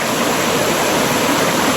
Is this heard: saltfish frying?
no